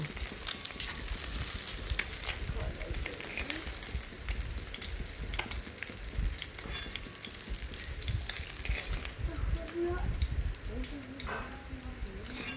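Fish pieces from a vola fish curry frying in hot oil make a continuous crackling sizzle with stirring and clatter, and a voice speaks at times over it.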